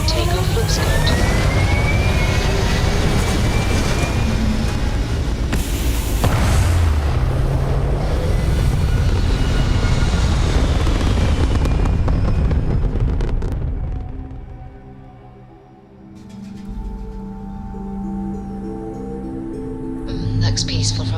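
Spaceship lifting off in the Starfield video game, a loud sustained low rumble and roar with booming bursts that fades after about thirteen seconds into a quieter hum, with brief voices over it.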